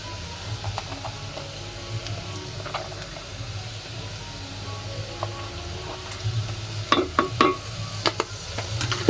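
Chili powder, turmeric powder and ginger paste dropped into a frying pan for a pui shak dish, with a low sizzle and scattered light stirring scrapes that build into a cluster of sharper clatters toward the end.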